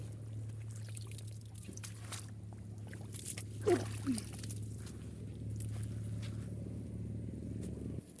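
Water flows steadily through a channel after a night of heavy rain, a continuous rushing wash with a low steady rumble underneath and a brief splash or two midway, with no voices.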